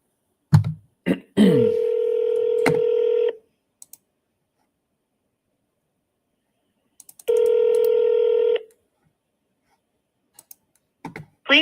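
Two long steady ringback tones on a phone call, each lasting about two seconds with a gap between, preceded by a few quick dialing clicks and beeps, all fairly loud and alone with no talk.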